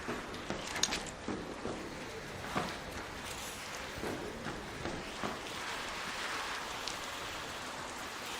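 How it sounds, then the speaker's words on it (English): Heavy rain falls in a video game, a dense steady hiss of rainfall with scattered patters and faint taps throughout. "That's some seriously heavy rain."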